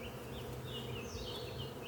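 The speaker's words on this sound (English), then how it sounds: "There's still quite a bit of bees in here" A soft, continuous buzzing of many honey bees inside a hive, fanning, a steady low drone with a few higher whines drifting over it.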